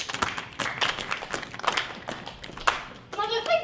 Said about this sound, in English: Clap if you believe.